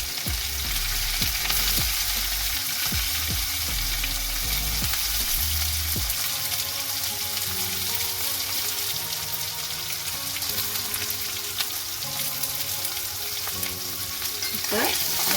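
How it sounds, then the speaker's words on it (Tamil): Chopped onions fry in hot oil, a steady loud sizzle with occasional scraping stirs and clinks, continuous throughout with no talking. "அடுத்ததான் கட் பண்ணி வச்சிருக்கிற வெங்காயத்தை அதுக்குள்ள போட்டு பொரிய விடும்"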